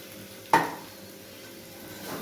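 A single scraping stir of a potato mixture in a pan with a brief sizzle, followed by quiet frying noise.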